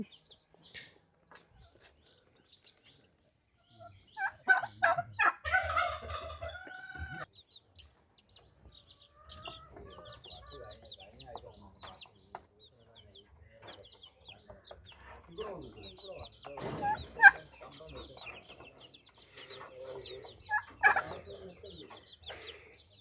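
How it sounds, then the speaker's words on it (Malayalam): Scattered clucks and calls from turkeys and chickens on a poultry farm, intermittent and moderately near, rising in short bursts over a quiet farmyard background. "ഇവിടെ ഒരുപാട് ടർക്കികളും നമ്മുടെ നാടൻ കോഴികളുമാണ് ഇവിടെ ഉള്ളത്"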